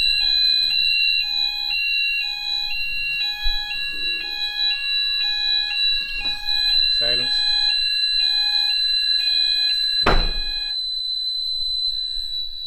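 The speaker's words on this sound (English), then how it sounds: "there's no point doing it if that detector's going to go off again" A smoke detector alarm sounds continuously in a building's smoke shaft area, its steady high pulsing beeps running throughout, with brief background noises and a sharp knock partway through.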